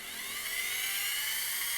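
A drill bit bores a hole while a bell siphon is being built, giving a steady, high, whining spin that holds evenly throughout with no speech.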